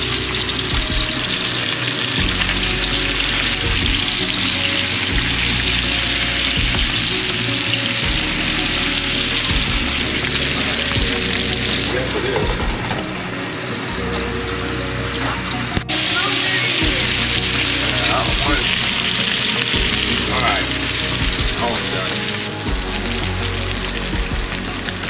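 Rainbow trout fry in a pan with a loud, continuous sizzle and crackle that runs steadily throughout, with a few brief dips and spits.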